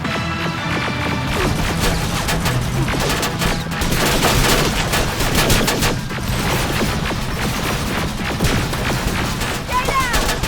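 Sustained gunfire in the video game Terminator: Resistance, dense overlapping bursts and rattling automatic shots continuing loudly throughout with no pause.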